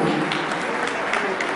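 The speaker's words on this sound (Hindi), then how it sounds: "जोरदार तालियां" Brief burst of audience applause for sports participants at a women and child development department event, dense, close clapping throughout.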